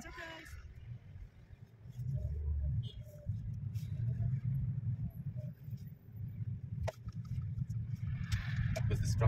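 Busy road traffic on a Paris street, a steady low engine rumble from passing cars with occasional revving, continuous and fairly close, with a few faint voices.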